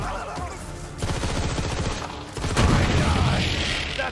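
A legendary weapon in Borderlands 3 fires rapid bursts of gunshots in dense, fast rhythm, the volleys loud and close with a short pause between them.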